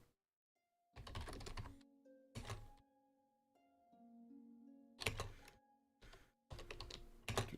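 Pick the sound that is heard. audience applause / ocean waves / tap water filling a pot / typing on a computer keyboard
typing on a computer keyboard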